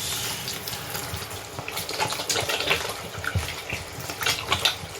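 Water runs steadily from a tap while hands are washed, making a continuous close splashing hiss with small bursts and no talking.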